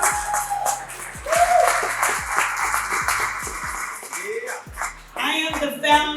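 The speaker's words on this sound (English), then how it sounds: "give her a hand clap" Audience applause for a woman at a women's empowerment event, a crowd of hands clapping in a dense patter mixed with voices and scattered taps.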